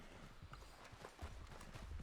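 Horse hooves clip-clopping in Red Dead Redemption 2, a steady run of soft, quiet hoofbeats close by with faint background noise, no talking over it.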